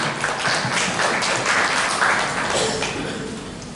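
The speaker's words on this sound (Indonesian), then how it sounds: "Boleh teman-teman kita tepuk tangan untuk acara pada siang hari ini." Seminar audience applauding at a career-prep event on state-enterprise recruitment: sustained, dense clapping that fills the room and slowly tapers near the end.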